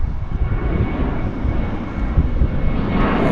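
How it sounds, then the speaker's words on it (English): WestJet airliner taking off at Vancouver airport, a loud, steady broadband engine roar that holds throughout and swells slightly toward the end, with no talking. "WestJet taking off."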